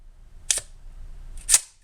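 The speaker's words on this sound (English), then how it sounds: "If I rack the slide hard, you don't get any type of a metal on metal contact sound." Two sharp slide racks of a 1911 pistol fitted with a polymer shock buff, each a crisp close mechanical snap about a second apart, with quiet room tone between and no speech.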